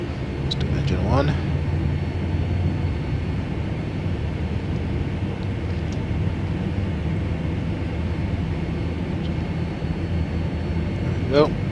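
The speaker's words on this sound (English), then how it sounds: "Let's do engine 1." A Boeing 757's number 1 engine spools up in Flight Simulator X, a steady, dense whine and rumble that holds level throughout, with a few faint clicks at the start and end.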